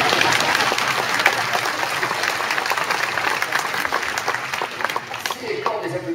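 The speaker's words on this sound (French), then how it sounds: "Oh, vous applaudissez" Sustained applause from the audience at a town's New Year greetings ceremony in Crest, a dense steady crowd clapping filling the hall throughout, thinning slightly near the end.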